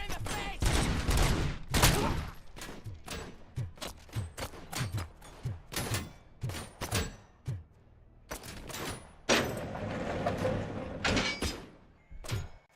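Gunfire in the video game Robocop: Rogue City: loud, rapid bursts and single heavy shots crowd the foreground, broken by brief pauses and a dense stretch of shooting in the middle.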